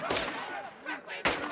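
Gunfire in the video game Call of Duty Modern Warfare 2, sharp broadband bursts at the start and again near the end, with a clear crack late in the clip over a busy game soundtrack.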